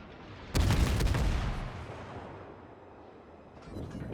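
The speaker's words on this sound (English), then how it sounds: "Eurobeat is going to shell the New Mexicos, hoping for some fires" Battleship guns firing a salvo at New Mexico battleships in a naval video game: one sudden heavy booming blast with a long rumbling decay, loud and close, then a faint rise of noise near the end.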